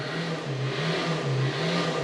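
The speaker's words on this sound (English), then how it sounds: "Excuse the noise, someone's revving a car outside." A car engine revs in the distance, its low hum rising and falling in waves with steady background noise.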